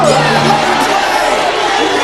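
A cartoon crowd in Captain Planet cheering loudly and steadily throughout, a dense wash of many voices shouting and whooping together.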